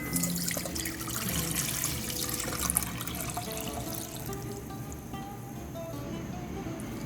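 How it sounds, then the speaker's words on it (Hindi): Water poured from a tap into a cooking pot, a continuous splashing and trickling stream at moderate level lasting throughout. "अब सबसे पहले एक देगची में पानी डालेंगे।"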